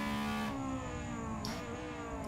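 Honda Civic Cup race car in a racing video game at Donington Park National, its engine droning steadily at mid pitch as it circles the track, with a brief shift in tone midway and no talk over it.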